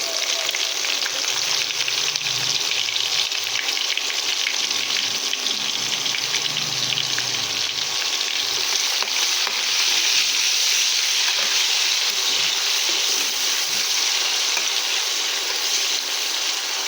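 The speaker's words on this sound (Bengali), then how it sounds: "পেঁয়াজটাকে কিছুক্ষণ ভেজে নেব।" Chopped onion frying in hot oil with cardamom, bay leaf and cinnamon, a steady close sizzle that holds evenly throughout with a little faint stirring beneath.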